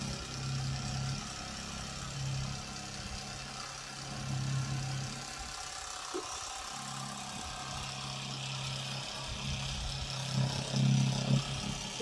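Electric rug carving scissors run steadily at a set speed, giving a continuous low motorized hum and buzz with a mid-level drone and small shifts in load. The sound is close and moderately quiet, with no talk.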